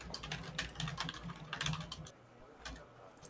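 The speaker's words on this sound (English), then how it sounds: "loud typing" Someone types hard on a computer keyboard during a Wargame: Red Dragon match, with rapid clacking keystrokes in uneven bursts, close and prominent, thinning out toward the end.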